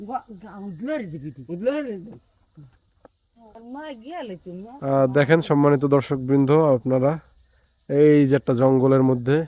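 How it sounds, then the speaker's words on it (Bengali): A steady, shrill chorus of crickets fills a forest without a break while someone talks over it close to the microphone. "আপনারা একটু অনুভব করেন ঝিঝি পোকার আওয়াজটা।"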